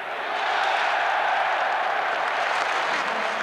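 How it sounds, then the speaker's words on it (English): A French stadium crowd roars and applauds after a try in the 1999 France v Wales rugby match, a dense, steady wash of cheering that swells and holds for the whole stretch. "The French crowd find their voice."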